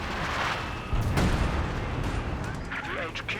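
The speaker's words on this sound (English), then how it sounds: "howitzer fire coming in on the building, gets the machine gun out of there" Howitzer artillery fire in the strategy game Company of Heroes 2, a heavy boom around the one-second mark over a constant rumble of battle noise and scattered gunfire, with a commentator talking throughout.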